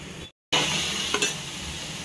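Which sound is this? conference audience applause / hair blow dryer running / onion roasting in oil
onion roasting in oil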